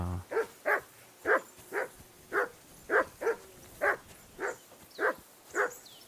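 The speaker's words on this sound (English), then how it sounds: "Why is he barking?" A dog in the video game Kingdom Come: Deliverance 2 barks steadily and repeatedly, about a dozen evenly spaced barks, fairly faint and alone over a quiet background.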